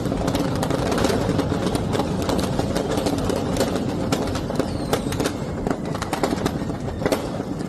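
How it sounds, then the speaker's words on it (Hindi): Firecrackers bursting inside a burning fireworks shop in Hyderabad, a dense, continuous crackle of rapid sharp pops layered over a loud roar of fire and commotion, close and unbroken throughout. "पटाखे लगातार फूट रहे हैं"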